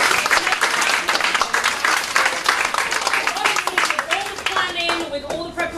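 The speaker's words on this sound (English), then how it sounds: "round of applause for all of you" Audience applause fills a hot outdoor community event, a steady wash of dense clapping with a few cheers and voices rising through it toward the end.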